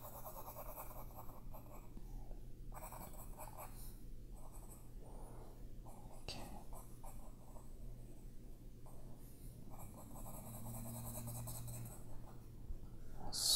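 A pencil scratching steadily across paper while a woman's face is sketched, soft continuous strokes with brief pauses, close and quiet over low room hum.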